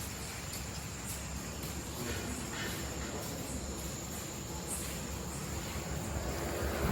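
A train running between Kurnool and Tirupati, heard from inside a carriage: a steady, continuous rumble and rushing noise holds for the whole stretch with no talk, growing slightly louder near the end.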